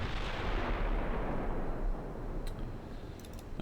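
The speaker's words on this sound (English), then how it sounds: "Puerto Rico opening fire at long range." Battleship Puerto Rico firing its heavy guns at long range in a naval strategy game: a sustained, loud rumbling boom of salvos that rolls on and slowly fades, with faint clicks near the end.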